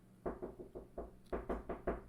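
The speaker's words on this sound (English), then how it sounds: "Is that my son knocking at the door?" Knuckles rap on a door in quick clusters of two and three, close and fairly loud, with no talking over them.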